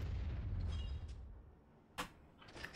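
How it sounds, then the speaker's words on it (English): A grenade goes off in a Star Wars game, Age of the Rebellion campaign, as one sharp burst that fades quickly, following a low rumbling battle-ambience bed and preceding fainter scattered noises. "Did you just chuck a grenade at Chewie?"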